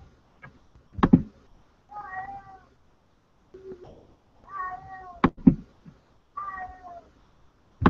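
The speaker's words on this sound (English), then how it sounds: "my friend's cat is here" A friend's house cat meows several times, each call a clear, drawn-out mew with falling pitch, close to the microphone, with soft thumps and small handling noises between the calls.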